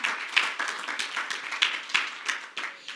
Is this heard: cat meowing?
no